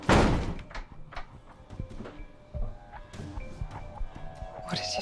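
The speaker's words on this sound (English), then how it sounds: "I closed the door." A door is shut at the start with a sharp thump and rattle, followed by quieter knocks and shuffling handling sounds indoors in a drama scene.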